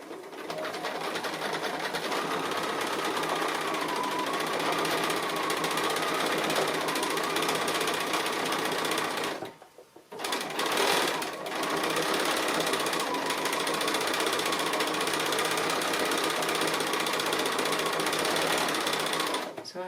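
A sewing machine buzzes continuously while free-motion stitching appliqué details, running close and steady with a brief pause in the middle before resuming.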